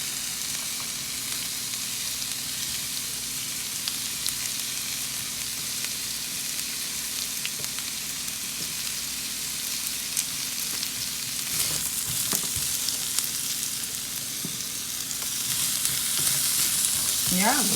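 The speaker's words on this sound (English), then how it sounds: "I'm just adding our onions to cook." Onions sizzle steadily in a pan, with occasional scrapes and clatter as they are stirred, close and continuous, growing slightly louder near the end.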